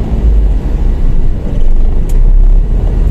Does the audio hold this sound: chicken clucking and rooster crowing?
no